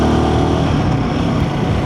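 A Royal Enfield Himalayan 450 motorcycle pulls away in second gear at low revs, its engine a steady, close, loud rumble that holds an even drone throughout with no talk.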